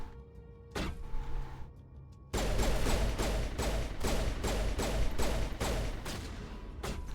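Gunfire from the video game Mass Effect plays faintly through a TV: a single early shot, then a loud stretch of rapid, repeated bursts of shots with a constant background rumble underneath.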